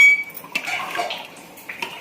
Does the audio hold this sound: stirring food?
yes